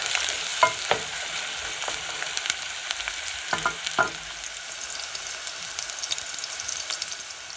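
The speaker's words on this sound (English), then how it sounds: "Add your onion and cook until golden brown." Onions frying in hot cooking oil in a pan for coconut egg curry, giving a steady close sizzle with a few sharper crackles and scraping stir sounds scattered throughout, with no voices.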